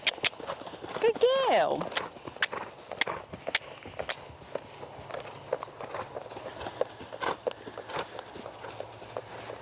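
A mare canters in a steady rhythm of hoofbeats, close and clear, while a person speaks over them at the start.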